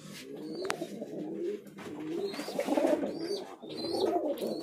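Fancy Lakka pigeons in a breeding loft coo in repeated soft, throaty rolls, fairly close, with a few faint chirps between the phrases and no voices.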